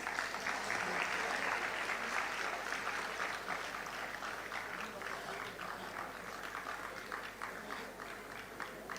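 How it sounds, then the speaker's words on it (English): Audience applause at a ceremony in Mumbai honouring a scholar with a citation and portrait: steady, dense clapping from a large crowd lasting the whole stretch, fairly distant and even in level, with no speech over it. "He deserves a big round of applause."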